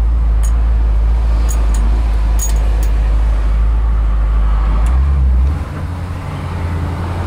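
A 1963 Chevrolet Impala 409 with a two-speed Powerglide driving on the road, a loud deep low engine rumble with steady road noise from inside the car, easing near the end.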